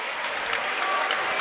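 A loud, boisterous Washington student section roars and claps through a high school basketball game against Metamora, a dense, steady wash of crowd noise with a commentator talking over it.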